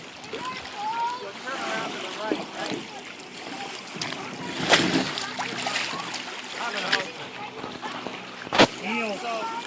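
Scouts paddle canoes out on Crotch Lake, with soft water splashing and boat noise carried under steady outdoor chatter and an instructor calling to the young paddlers, plus a few sharper knocks.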